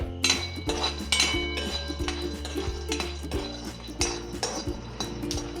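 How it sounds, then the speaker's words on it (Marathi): Peanuts dry-roasting in a pan rattle and clink as they are stirred, with close, irregular metallic taps and scrapes of a utensil against the pan over a faint steady background. "थोडे शेंगदाणे भाजून घेते"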